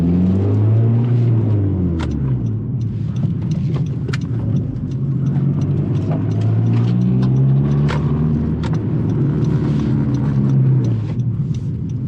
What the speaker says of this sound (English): I hear that the exhaust sounds different.